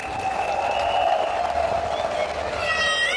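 Audience applause at a party congress of the PCT federation, a steady wash of clapping from a large hall held at an even level throughout, with a sustained tonal sound running over it.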